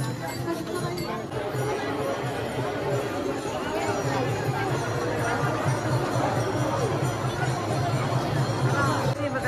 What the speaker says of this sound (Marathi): गर्दी बघू शकता तुम्ही इथे, जाम गर्दी आहे जाम